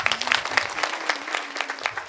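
An audience claps to welcome Mahant Ramanand Puri at a spiritual gathering. The applause comes in uneven bursts with some louder individual claps, and a faint sustained voice runs underneath.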